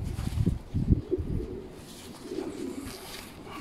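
Racing pigeons in a loft, low throaty cooing repeated in bursts, close by, with soft rustling and faint background noise.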